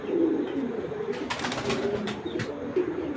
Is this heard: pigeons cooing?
yes